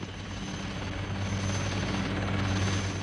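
A military helicopter from the Rhodesian Bush War era drones steadily with a constant rotor and engine hum, heard alone at moderate distance without any speech.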